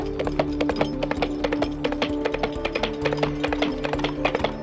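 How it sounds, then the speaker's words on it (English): Real horse hooves used as film foley, tapping out a steady clip-clop rhythm of sharp, close knocks over a low background hum, with no talking. "In this case, I actually used horse hooves."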